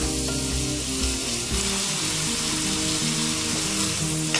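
Mushrooms fry at high heat in a pan, with a dense, steady sizzle that crackles loudly and continuously throughout.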